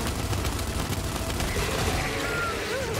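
Gunfire rattles in the video game Gears 5 Hivebusters as a dense, continuous fusillade of rapid shots under game noise, with a voice talking over it.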